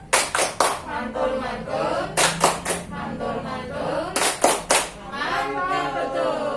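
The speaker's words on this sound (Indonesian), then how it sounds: "Monggo kita berikan tepuk mantul untuk Bu Budi." A group performs the Indonesian tepuk mantul clapping chant, with short bursts of sharp rhythmic hand claps in clusters alternating with people speaking the chant words.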